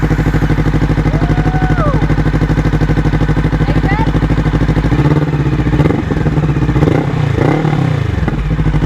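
Honda SCL500 twin motorcycle idling with a newly fitted aftermarket exhaust, a loud steady throb close by, turning rougher and choppier in the second half, with some talk over it.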